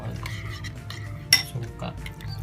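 Utensil clinks and scrapes against a bowl while mixing cucumber with pepper and vinegar, a light steady stirring with a sharper clink partway through.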